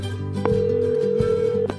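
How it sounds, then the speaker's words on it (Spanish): A telephone dial tone sounds as a call is placed, a steady, loud, continuous hum lasting just over a second amid a little background noise. "A ver, la estoy llamando."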